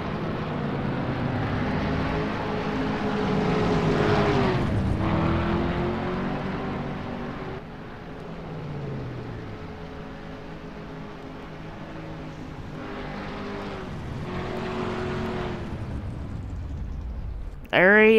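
A stock race car in a Martinsville racing video game rolls down pit road, its engine droning and sweeping in pitch, easing off and building again, loud and close with a voice talking over it.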